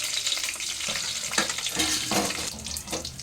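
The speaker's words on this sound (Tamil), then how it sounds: "மட்டனுக்கு இதை இனி வறுக்கணும் கொஞ்சோண்டு எண்ணெய் சேர்த்து அதுக்கு கூட இந்த மிளகை இதில் போட்டு இந்த மல்லியையும் இதுக்கு கூட சேர்த்து வறுக்கணும்" Whole peppercorns and coriander seeds frying in a little oil for a mutton curry, with a steady close sizzle and scraping stirs throughout.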